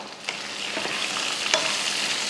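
Onions and tomato with curry leaves sauté softly in a pan for dosa, a steady close sizzle with a few quick stirring scrapes and no voices.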